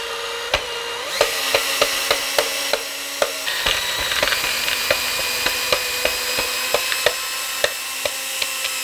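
A power drill works on a secondhand Encore guitar to back out a stuck screw, with short repeated whirring bursts and sharp clicks in an uneven rhythm. The bursts are close and steady in level, and no one speaks.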